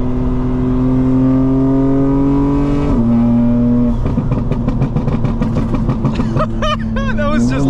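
A stage 2 tuned 2025 BMW M4 Competition xDrive runs at light throttle, its engine a loud, steady drone that dips briefly, then builds with rising turbo whine and crackle, with brief fluttering bursts near the end.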